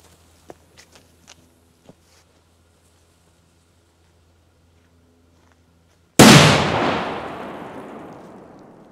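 A loud New Year's Eve firecracker of about 4.5 grams bursts with a single sharp, powerful bang whose echo decays slowly, after a few faint footsteps and small knocks in near silence.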